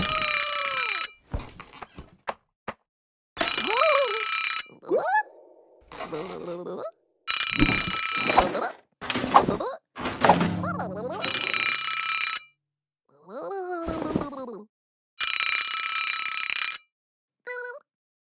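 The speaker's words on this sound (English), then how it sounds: "The alarm clock woke up Little Blue in the morning." A cartoon alarm clock rings in repeated loud, bright bursts separated by short pauses, with cartoon squeaks and sliding tones between rings.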